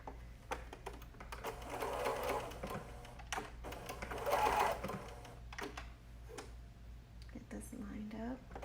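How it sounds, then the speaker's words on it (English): A sewing machine runs a straight stitch on a kids' hoodie with a steady low mechanical hum and fast needle clatter throughout. Quiet, indistinct voices murmur alongside it. "So I'm just going to do a straight stitch."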